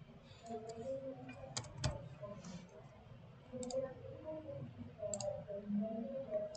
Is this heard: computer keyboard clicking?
yes